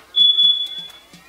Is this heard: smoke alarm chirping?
yes